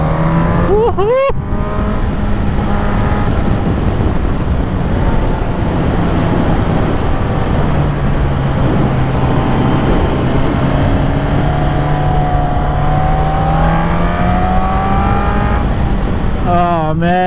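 A 2024 Suzuki GSX-S1000 motorcycle engine drones steadily while riding, a continuous loud hum with shifting pitch and wind rush, plus brief whoops from the rider near the start and end.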